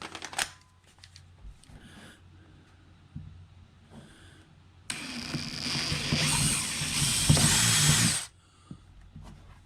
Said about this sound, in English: Gonna be drilling right in the exact same hole if I'm lucky.